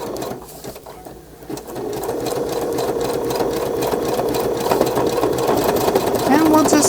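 A sewing machine stitches a Craft Tex nature-journal cover, running as a steady mechanical whir that builds and continues to the end, close and fairly loud.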